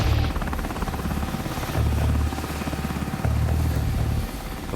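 Military helicopters approaching with a loud, steady rotor thump and engine roar, a low rhythmic beat that swells in louder waves throughout, with no talking.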